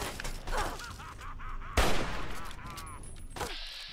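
Gunfire in the video game Fallout 3: a few sharp single shots, one loud close blast near the middle, set among game sounds and brief voices.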